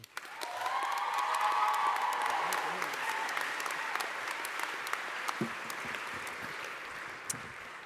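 At a 2018 University of New England convocation, an audience applauds steadily, with a brief rising cheer near the start, and the clapping keeps going through the whole stretch.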